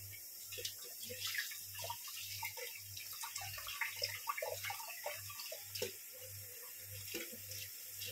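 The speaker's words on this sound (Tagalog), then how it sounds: "Hugasang mabuti ang mga prutas na binili dahil hindi natin nalalaman kung sino-sino ang mga humahawak." Fruit is washed by hand under running tap water, with a faint, steady splash and trickle and irregular wet rubbing and dripping. A soft rhythmic low pulse repeats underneath, and a voice talks quietly through it.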